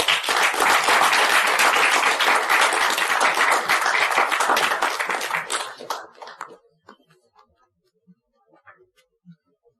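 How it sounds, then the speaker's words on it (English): An audience at a Toastmasters debate meeting applauds loudly for several seconds, then the clapping thins out into a few scattered claps and near silence. "Give a huge round of applause to Toastmaster Muhammad Bilal."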